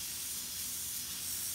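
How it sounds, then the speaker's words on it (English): Airbrush spraying paint onto a shirt to build feathered eagle detail, a steady close hiss of air and paint running continuously without pauses. "I know that I could come through here and just spray this down"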